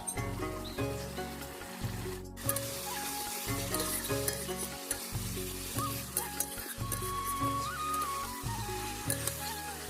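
Spice paste with a splash of water sautés in a pan for a Bengali silver carp curry, a soft constant sizzle under repeated rhythmic scraping and stirring strokes of a spoon against the pan.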